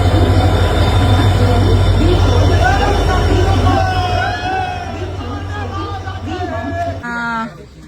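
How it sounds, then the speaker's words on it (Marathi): An Indian railway train stands at a crowded station, a deep steady engine rumble and hum filling the foreground with wheel squeals and chatter over it, the low drone cutting out near the end as a voice comes in. "तर मित्रांनो आम्हाला फायनली ट्रेन भेटलेली आहे"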